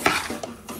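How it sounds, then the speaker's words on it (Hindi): One kilogram of rice stirred into a mixture in a pot for homemade alsi pinni, a few quick close scrapes and clinks of a spoon against metal in under a second. "अब बारी है जी चावलों को इसके अंदर मिक्स करने की"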